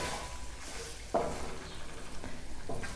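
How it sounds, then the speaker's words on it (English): Chunks of paneer or onion are stirred in hot oil in a pan for chickpea pancakes, a soft steady sizzle with a couple of sharper scraping stirs, fairly quiet and close. "So you want to stir that around, coat it in all the oil."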